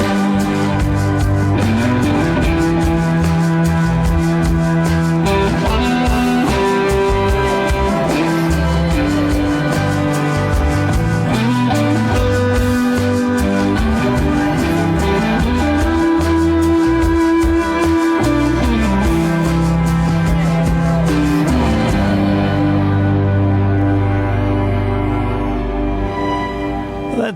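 A song plays loud and continuous, a full band arrangement with sustained chords and steady rhythm running throughout, thinning slightly at the end.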